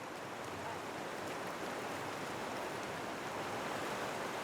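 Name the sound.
wild mountain river Shala flowing through valley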